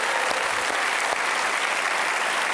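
Steady applause from an audience, dense clapping sustained throughout with no pauses or speech.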